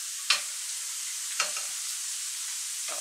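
Plantain slices drop into hot frying oil, each landing as a sharp sizzling hiss, three separate bursts over a steady crackling fry with no talk.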